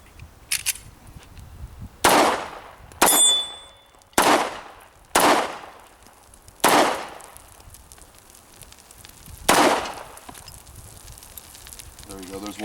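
A Sig Sauer P290RS 9mm pistol firing Armscor 124 grain ammunition on a range, with six loud, sharp shots at irregular intervals, each followed by a short ringing tail, plus a few faint metallic clinks.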